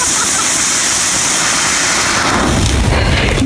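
A Double Your Money consumer firework bursts in a loud, continuous barrage of crackling explosions and booms, dense and roaring throughout with no pauses.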